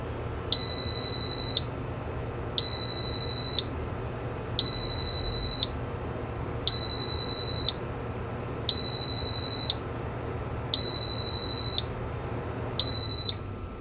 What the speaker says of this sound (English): So this should start to throw an alarm soon.